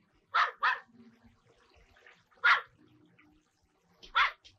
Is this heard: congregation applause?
no